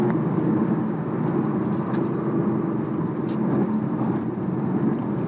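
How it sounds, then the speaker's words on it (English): Synthetic engine sound from a BMW i8 played through its speakers, a steady loud drone with road rumble sustained throughout, no talking. "it's pumped through the speakers and it's a synthetic sound, but it sounds pretty good"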